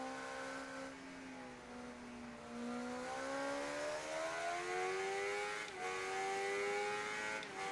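Race cars in the Ride 3 motorcycle racing video game, a sustained engine whine whose pitch falls and then climbs steadily as they accelerate, with brief dips near the end.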